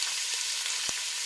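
Chicken sizzles in oil in a frying pan, a soft, steady crackling hiss with one brief low knock near the end.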